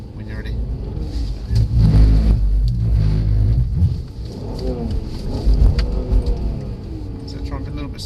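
A Mercedes engine revs hard while drifting, surging and falling in loud bursts, with a driving instructor's voice talking over it.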